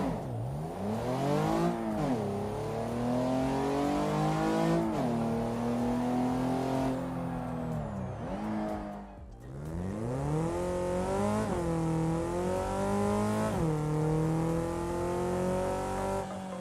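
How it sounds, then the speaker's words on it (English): Engine sounds from remastered cars in the BeamNG driving game: a loud, close engine revving up and down repeatedly through gears, with rising and falling pitch, a brief dip near the middle and no talk. "This mod adds a new sound to around 20 of the in-game cars"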